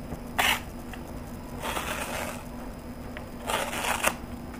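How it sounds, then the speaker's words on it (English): Foil lid peeled back off a 7-Eleven Nakiryu ramen cup from Japan, three short crinkly tearing and rustling bursts up close with quiet pauses between. "I'm going to peel off the top here."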